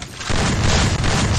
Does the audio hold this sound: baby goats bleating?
no